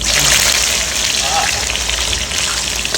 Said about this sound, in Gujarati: અત્યારે આપણી જે ફ્રાય કરેલી ડુંગળી હવે આની અંદર એડ કરવાની છે.